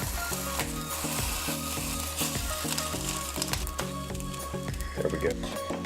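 A Monte Cristo sandwich sizzles loudly in a pan as its second side crisps, a steady close fry with rhythmic scraping pulses from a spatula.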